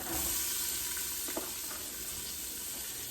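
Onion sautéing in olive oil in a soup pot gives a steady, fairly quiet sizzle, with a few soft stirring clicks partway through.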